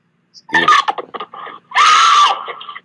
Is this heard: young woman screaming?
yes